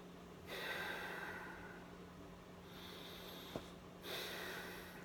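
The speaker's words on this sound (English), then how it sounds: "I'm doing my belly breathing." Slow, deep belly breathing sounds close and quiet, with a few long drawn breaths separated by calm pauses and a small click near the end. No one talks.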